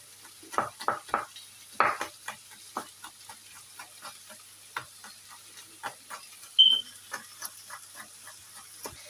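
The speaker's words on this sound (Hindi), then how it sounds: "जी बस 3 से 4 मिनट गाजर हमारी फ्राई हो गई है।" Carrots frying in a pan as they are stirred, giving a series of soft, close scraping and clinking strokes over a faint sizzle, with one brief sharper metallic tap partway through.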